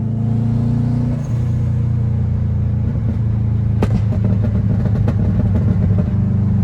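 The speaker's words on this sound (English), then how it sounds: "if I tap the throttle it makes louder pops" A car with a burble tune idles with a steady low rumble, then crackling pops and bangs break out from the exhaust as the throttle is tapped, loud and close.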